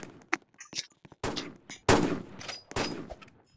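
Gunfire from a first-person shooter video game comes as several sharp, fairly loud bursts of shots with short gaps between them, close by.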